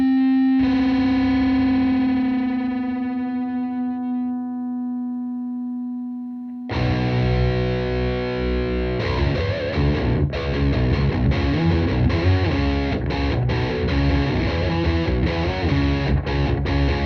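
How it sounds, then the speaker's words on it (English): Guitar tuned down to drop B, an open string and a harmonic sustained together with a slow fluttering beat as the tone decays, then loud distorted electric guitar playing through an effects unit with rhythmic chugging. "Now I'm gonna play the open string and the harmonic, let them ring together and listen to the fluttering."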